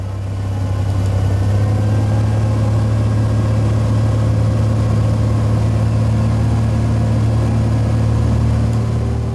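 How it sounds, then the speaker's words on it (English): Small plane landing at the Soldier Bar backcountry airstrip, heard from inside the cockpit as a loud, constant engine drone with a strong low hum and steady buzz that never lets up. "This is my very first landing into Soldier Bar."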